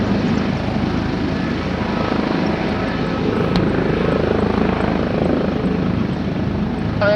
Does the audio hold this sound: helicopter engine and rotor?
yes